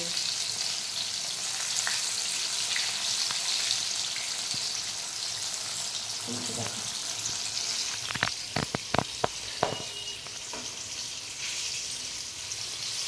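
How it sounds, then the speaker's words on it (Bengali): Battered KFC-style chicken pakora fries in hot oil with a constant dense sizzle, broken near the middle by several sharp crackles and pops as pieces settle into the pan. "গরম তেলে ছেড়ে দেবো, দেখি কেমন লাগে খেতে।"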